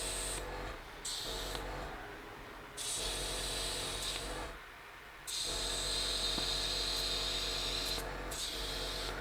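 Airbrush spraying model paint while partly clogged, a steady close hiss that cuts out and resumes several times in uneven bursts.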